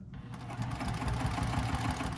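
A sewing machine stitches a vinyl triangle pyramid pouch, starting up after a brief pause into a steady, rapid mechanical whir and thump of the needle, fairly quiet and close, with no talk.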